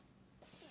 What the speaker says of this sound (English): we found that they stuck just a little bit to our pan, so we are spraying it